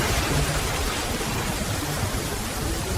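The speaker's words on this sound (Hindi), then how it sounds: "देखो, पहाड़ों से बारिश तेज हो रही है।" Steady, dense rain hiss fills the whole stretch, a continuous broadband wash with no voices and no breaks.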